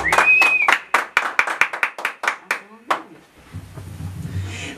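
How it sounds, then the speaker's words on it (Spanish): An audience at a mariachi birthday party claps in sparse, irregular strokes that thin out and fade, with voices at the start and low murmur afterward. "Ese aplauso bonito."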